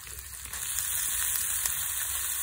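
Onion and green chili sizzle and crackle in hot oil for an egg bhaji, a steady, close hiss that stays even and alone with no voices.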